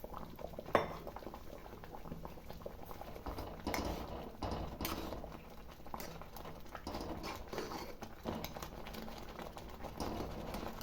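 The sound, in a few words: water boiling in a pot as semolina is added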